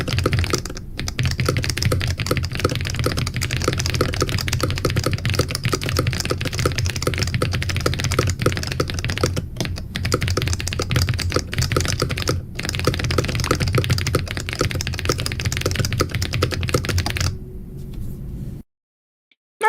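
Fast, continuous typing on an ortholinear computer keyboard, with dense key clacks running at a high pace for most of the stretch before the sound stops abruptly near the end.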